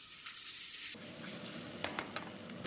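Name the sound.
chicken and asparagus frying in pan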